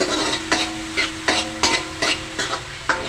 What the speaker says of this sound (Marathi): मिक्स करा तोही कांदा आणि टोमॅटो चांगला भाजा